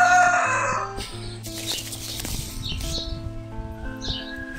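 Rooster crowing outdoors at a retreat on Lanzarote, a few moderately near calls mixed with clucking and other bird chirps over a busy background.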